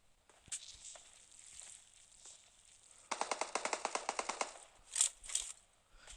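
Rapid burst of automatic gunfire in PUBG, a dozen or so sharp shots in quick succession mid-clip, preceded by scattered single game sounds and followed by a couple of louder hits.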